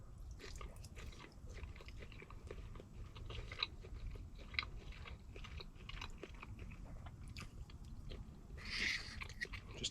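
Someone chews a thick slice of warm Christmas ham at a campsite, soft close-up biting and wet mastication sounds repeating steadily, with a brief louder crunch near the end.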